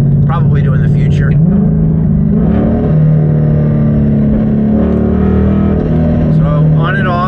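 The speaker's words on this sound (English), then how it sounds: "So on and off the gas, I can hear transmission noise." A 2024 Ford Mustang with an MT82 manual transmission and Steeda Tri-Ax race shifter drones steadily from the cabin as the throttle is applied and released, with a low, humming gear whine rising and falling under the engine note.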